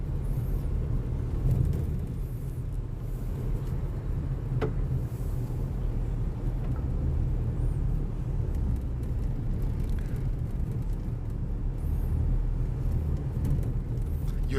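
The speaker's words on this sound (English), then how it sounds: "I'll give you a little ride in our truck over the new lava road." A truck drives over a freshly laid lava road near an erupting volcano on Iceland's Reykjanes Peninsula, its steady low engine rumble and rough road noise continuing unbroken throughout.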